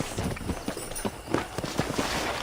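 Steady rhythmic hoofbeats of a horse in Red Dead Redemption clop along at a trot over a dense, noisy background, with no voices.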